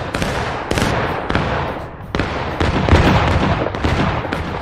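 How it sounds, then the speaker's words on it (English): Repeated sharp gun blasts in a video game, a burst of loud booming reports spaced irregularly, each with a short echoing tail, close and loud with no talk. "I just fired my gun for the first time"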